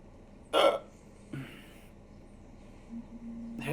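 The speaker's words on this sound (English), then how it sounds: "Hiccup." A person hiccups once sharply, followed by softer throat sounds and faint breathy noise, close to the microphone.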